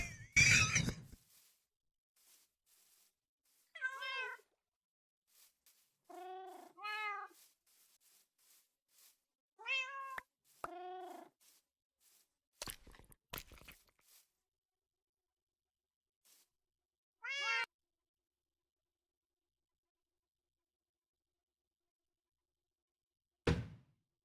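Cats in Minecraft give short, separate meows, about a dozen calls spread across a quiet stretch, each one brief and clear. Silence falls between them, and a few faint knocks are heard.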